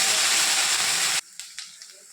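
Cardamom, cinnamon and black peppercorns hit hot oil with a loud, steady hiss for about a second, then it cuts off, leaving faint scattered crackles.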